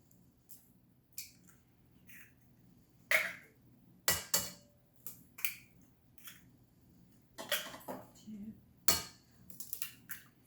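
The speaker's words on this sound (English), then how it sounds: "You're going to crack open 4 eggs" Four eggs cracked into a bowl for pumpkin cupcake batter: sharp, separate taps and cracks at irregular intervals, close and fairly quiet against a hushed room.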